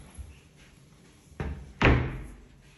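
Apartment cupboard doors and drawers are opened and shut, with a soft knock early, then a firmer thud and a louder slam close up, separated by quiet pauses.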